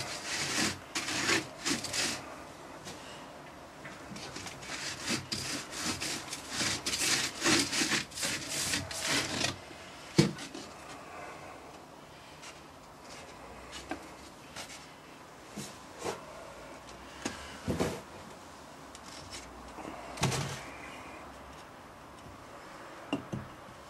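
Sand is rammed into a metal casting mould box by hand, a series of gritty scraping and rubbing strokes in quick bursts, then sparser thuds and scrapes with an occasional sharp knock, close and alone.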